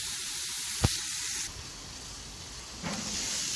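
Frozen shrimp skewers and burgers sizzle on a two-burner Char-Broil Signature infrared gas grill, a steady broad hiss with a brief sharp tick and a later swell of spitting.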